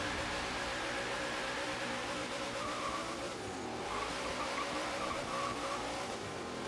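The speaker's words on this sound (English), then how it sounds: "Let's start our street race." Street race cars in Forza Horizon 3 skid and squeal their tires over a continuous engine roar, steady and moderately loud throughout with no talking.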